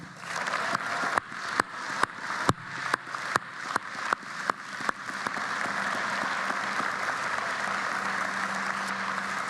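A few scattered, loud individual claps ring out at a university convocation ceremony, then fade into a soft, steady hiss of distant applause from the crowd.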